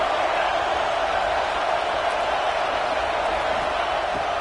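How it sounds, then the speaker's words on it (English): A stadium crowd cheers and roars at a football game, a dense, steady wall of distant noise that holds level throughout with no clear breaks. "this crowd trying to help keep them there"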